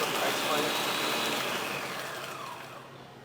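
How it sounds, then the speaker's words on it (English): An automatic Ninja professional blender whirring loudly as it crushes ice for a mudslide drink, a dense steady roar that gradually winds down toward the end. "This is an automatic ninja blender."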